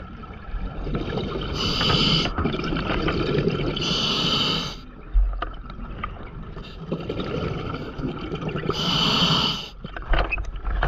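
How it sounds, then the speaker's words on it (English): A cave diver breathes rapidly and desperately through scuba regulator gear in silted underwater tunnels, with loud, repeated inhale-exhale bursts and hissing exhalations sounding close throughout. "his rapid breathing is audible as panic takes over, with each breath sounding more desperate than the last"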